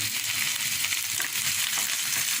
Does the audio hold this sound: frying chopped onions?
yes